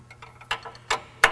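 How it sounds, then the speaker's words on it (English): A wrench turns the engine of a 1967 Porsche 911S by hand, giving soft mechanical ticks and three sharper metallic clicks at roughly even intervals, close up and quiet. "I'm just going to rotate the motor around with a wrench"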